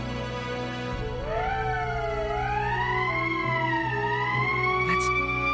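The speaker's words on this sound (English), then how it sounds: "That's the emergency siren." Emergency siren in the Valkyria Chronicles video game, a loud rising wail that climbs and sweeps in pitch over a steady low drone, with no voices over it.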